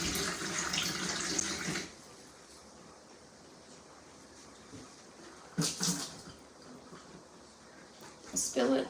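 Water runs from a reverse osmosis tap into a pot in a kitchen, a soft steady trickle with brief louder splashy bursts near the start and end.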